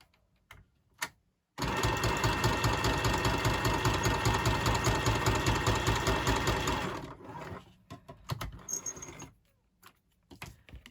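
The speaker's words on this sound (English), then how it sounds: "I'm just going to straight stitch across the bottom there." A sewing machine runs a straight stitch across lace, a loud, steady, rapid mechanical whir lasting about five seconds before stopping, followed by a few scattered clicks and fabric-handling sounds.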